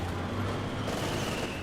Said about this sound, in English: Panzer Fusiliers firing away.